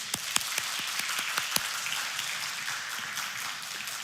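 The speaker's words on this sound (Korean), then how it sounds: "축복과 격려의 박수 했으면 좋겠습니다." A church congregation applauding together, a dense, steady wash of clapping that fills the whole stretch with a few sharper individual claps standing out.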